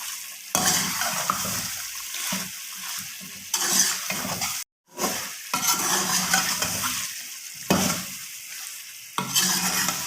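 Chicken white korma with green chillies sautéing in a pot, loud hissing sizzle broken by repeated bursts of stirring and scraping, one brief silent gap midway, close up with no talking.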